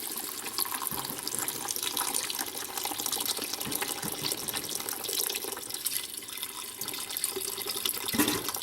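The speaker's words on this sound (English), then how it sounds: "Now what we're going to do is we're going to add a bunch of beef broth. Just going to pour that right in." Beef broth poured steadily into a pot of onion soup, a continuous liquid splash and trickle that runs close and fairly loud for the whole stretch, with no voices.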